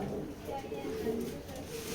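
Black racing pigeons in a loft coo in low, continuous murmurs, steady and close throughout, with a faint voice in the background.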